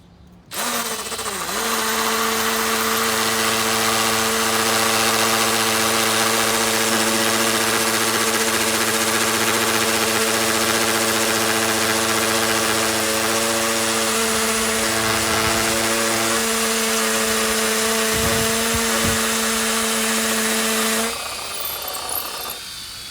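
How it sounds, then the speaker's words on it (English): A cordless hammer drill runs in hammer mode, giving a loud, continuous whine with a rapid percussive rattle that holds steady for about twenty seconds before winding down. "I want to make sure and set it to the hammer function so I'm getting both that drilling and that percussive action"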